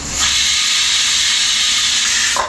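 A pressure cooker with chicken pulao inside lets off a loud, steady steam whistle, one sustained hiss that starts abruptly, holds for about two seconds and cuts off sharply.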